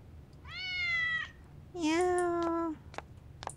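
Two clear, drawn-out cat meows ring out in a horror video game, close and fairly loud, the second one lower and longer, followed by a few brief clicks.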